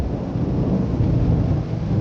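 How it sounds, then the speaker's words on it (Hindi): Heavy rain pours down during a storm, a dense, steady low roar with a deep rumbling undertone, loud and unbroken throughout. "हया, क्या तुम इस बारिश में पैदल आई हो?"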